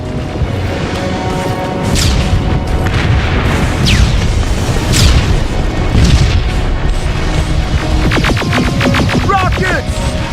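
Rockets slam in during a Terminator Resistance game, a dense rolling barrage of loud booms and crashing blasts over continuous rumble, with high whistling streaks and a rapid burst of crackling hits near the end.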